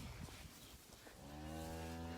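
A cow gives a long, low moo that swells and holds near the end, preceded by some shuffling noise, fairly close, at a farm calf shed.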